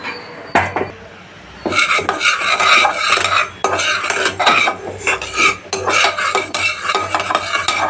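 Moong dal is roasted in a pan and stirred with a spoon, giving rattling grains and repeated scraping against the metal, close and fairly loud, with a faint sizzle beneath.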